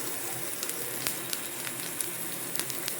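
Garlic and ginger sizzle in a pan of hot oil over a low flame, a steady soft crackle with small pops scattered throughout, close and even with no talking.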